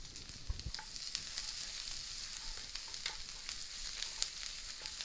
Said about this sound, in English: put your shredded ginger in, then your garlic